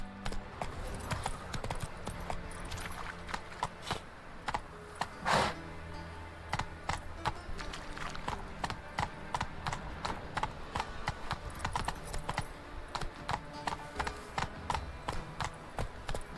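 Roach, Geralt's horse in the video game Witcher 3, clip-clopping with steady hoofbeats throughout, close and fairly loud.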